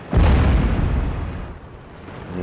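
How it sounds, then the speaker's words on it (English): An artillery shell striking a tank in World of Tanks, one sudden loud close boom that rolls into a long rumbling decay, with no talk. "Oh, we just got hit by artillery as well"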